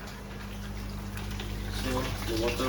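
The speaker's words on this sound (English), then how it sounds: "Turn on the water and all 4 containers will fill up" Tap water runs steadily into four aquarium containers at once during a fish tank water change, a continuous near splashing flow that grows slightly louder, with a voice talking over it.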